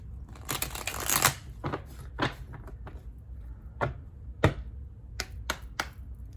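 Tarot cards being shuffled by hand: a run of soft, papery riffles and snapping bursts in uneven clusters, close and fairly quiet, with no talking.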